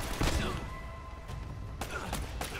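Scattered gunfire and crashing impacts from Uncharted: Drake's Fortune on PS4, with a dense burst near the start and sharp hits later, under a steady background of game noise.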